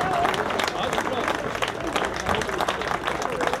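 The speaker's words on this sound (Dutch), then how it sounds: "Geef ze nog één keer een ovationeel applaus." A crowd at a women's cycling race in Noordwijk gives a prolonged ovation, with dense clapping and cheering blended into lively crowd hubbub.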